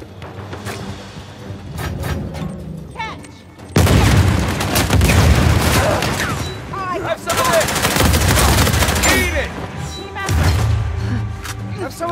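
Bursts of rapid gunfire and booms from Uncharted 4 multiplayer come in dense volleys, loud and sustained over several seconds. Quieter game sounds fill the pauses between volleys.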